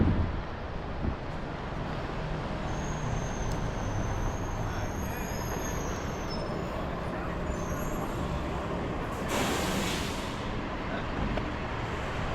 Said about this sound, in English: A delivery truck coming down here.